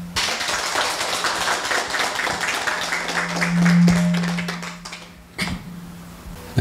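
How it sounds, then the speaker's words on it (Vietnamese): An audience at a Buddhist lecture claps together in a sustained burst of applause that swells, then tapers off with a few scattered claps over a steady hum. "Vỗ tay đi."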